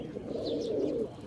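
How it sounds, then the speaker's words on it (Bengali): A purebred Rajshahi Giribaz pigeon cooing close by, one soft, low, rolling coo lasting about a second, clear against a quiet background with no talking. "মাশাআল্লাহ অনেক সুন্দর কবুতর।"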